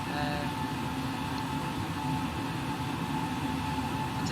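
A Hull Trains Class 802 in a train simulator game runs along the line toward Beverley, a steady low rumble and hiss of motion with faint tonal whine, continuous and even, no voices.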